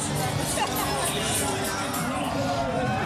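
A dense crowd fills Bourbon Street with steady, close chatter and a loud, unbroken babble of many overlapping voices.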